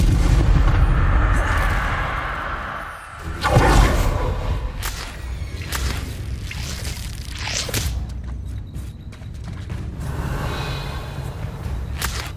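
Incendio fire spell cast in Hogwarts Legacy, a dense roaring whoosh of flame with bursts and crackles layered over continuous game ambience and effects, loud and sustained without a clear break.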